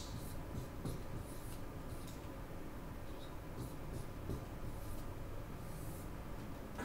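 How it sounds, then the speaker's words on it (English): Pen writing on paper in a classroom, a soft continuous scratching close by over a steady, fairly loud room hum with a few faint knocks, and no speech. "let me write that down"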